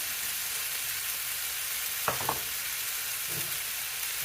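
Vegetables frying in a pan with a knob of butter give a steady soft sizzle, broken by two or three brief scraping stirs partway through.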